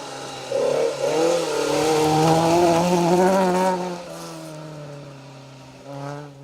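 Toyota Corolla T27 rally car on a stage of the Roger Albert Clark Rally, its engine note rising steadily and holding a loud high rev, then easing off and picking up again, heard alone.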